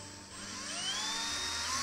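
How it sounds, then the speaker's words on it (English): A drill or heated tool bores holes through the plastic lid of a homemade brine shrimp hatchery container, giving a steady high whine that rises slightly in pitch over its short run, close and loud with no talk. "We're gonna drill holes"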